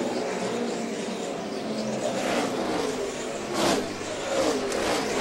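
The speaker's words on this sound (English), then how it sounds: "Kyle go by, and he runs right up in front of Brian Vickers." NASCAR stock cars race past at speed during the 2009 Coca-Cola 600, a dense, continuous engine roar with swelling pass-by surges around the middle and near the end, loud and sustained.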